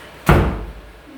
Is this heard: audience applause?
no